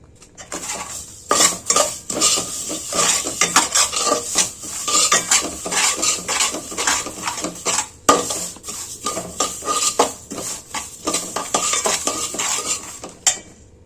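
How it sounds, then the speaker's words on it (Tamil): Sesame seeds roasting in a pan are stirred with a metal spoon, giving continuous rapid scraping and clinking with a faint dry sizzle, close and loud throughout. "இந்த எள்ளை கொட்டி வறுத்துக்குருவோம்."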